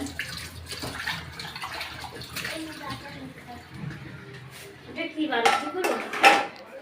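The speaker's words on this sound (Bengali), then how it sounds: "ওখানে বাসন পালা দিতেছে, তাই শব্দ" Dishes are washed nearby with running water, clinking pots and rattling cutlery, moderately loud with sharper clatters near the end, while people talk over it.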